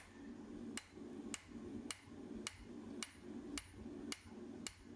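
A blacksmith hand-forges a taper on a hot set tool, with about eight sharp hammer blows falling in a steady, even rhythm, alone and fairly faint.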